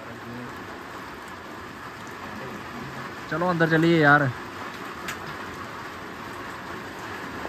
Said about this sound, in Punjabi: ਅਤੇ ਬਾਰਿਸ਼ ਨੇ ਆਪਣਾ ਰੁੱਖ ਜਿਹੜਾ ਉਹ ਤੇਜ਼ ਕਰ ਲਿਆ।